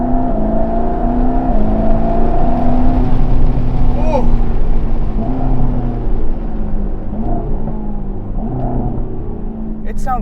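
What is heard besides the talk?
sports car engine note heard from inside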